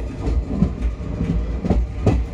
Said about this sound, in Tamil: ஒரு குட்ஸ் ட்ரெயின் கிராசிங் இங்கே நடக்குது